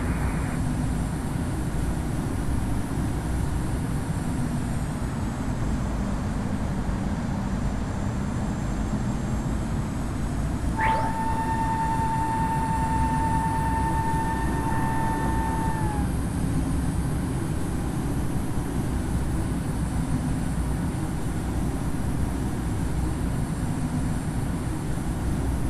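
A Garuda Indonesia Boeing 737 jet on its takeoff roll gives a steady, loud, unbroken roar throughout, with a short high whine rising partway through and fading a few seconds later.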